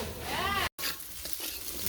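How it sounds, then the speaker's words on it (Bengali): Eggplant pieces frying in a pan in a village kitchen, a close steady sizzle with scraping stirring strokes and a brief gap midway. "বেগুন ভাজা হয়ে গেছে, নামিয়ে ফেলে"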